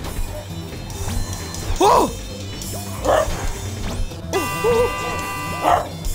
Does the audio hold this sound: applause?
no